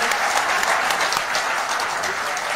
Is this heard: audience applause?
yes